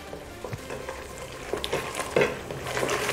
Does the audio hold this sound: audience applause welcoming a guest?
no